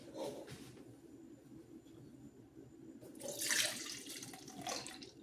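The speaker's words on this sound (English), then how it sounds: "now I'm gonna pour the juice out" Fruit juice poured out of a container in a home kitchen, a soft running, splashing liquid stream that swells in the middle and trails off, fairly quiet and alone.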